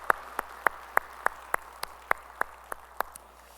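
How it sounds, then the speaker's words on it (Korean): A church congregation in Korea claps in unison, about a dozen crisp, evenly spaced claps beating a steady rhythm over a quiet room. "우리 찬양하실 주님께 영광의 박수 올리겠습니다"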